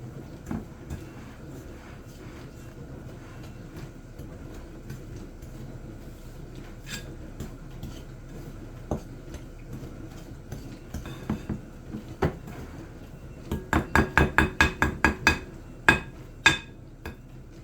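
Butter and sugar being mixed together for sour cream cookie dough, a steady low scraping and thudding of utensil against bowl, ending in a fast run of sharp clinks and taps near the end.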